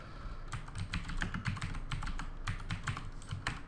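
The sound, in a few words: clicky computer keyboard typing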